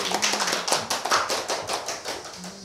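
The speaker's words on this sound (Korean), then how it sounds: "박수 한번 쳐주세요" A congregation in a Korean church service claps in a steady, brisk rhythm of sharp repeated hand claps that carry on evenly and fade slightly toward the end.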